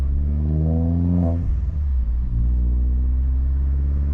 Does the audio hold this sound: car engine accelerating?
yes